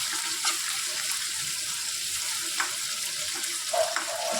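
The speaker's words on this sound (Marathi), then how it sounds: "मी एक मोठा कांदा चिरलेला आहे उभा चिरून घेतलेला आहे तो सुद्धा ह्यामध्ये टाकून घ्यायचा आहे परतून घ्यायचं आहे" Vertically sliced onion sautés in a pan alongside leftover chapati, a soft, even sizzle with occasional stirring scrapes, close but fairly quiet, with no talk.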